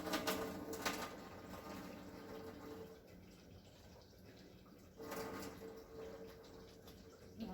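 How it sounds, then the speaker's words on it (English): Water drains from a pot of boiled potatoes through the lid, pouring and splashing steadily in two gushes, a sustained rushing flow with a brief lull between, fairly close. "I pour the water off."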